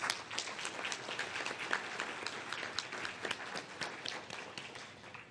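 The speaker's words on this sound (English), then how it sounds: "So can we give them a round of applause?" An audience at a scientific talk on Alzheimer's disease gives the funders a round of applause, steady close clapping with distinct individual claps standing out, tapering slightly toward the end.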